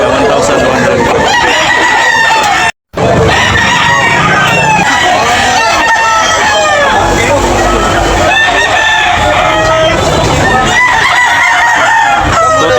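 Roosters crow repeatedly at a chicken market in Tabunok, Talisay, Cebu, loud and close, with many overlapping crows and clucks over a busy crowd murmur and nearby talk.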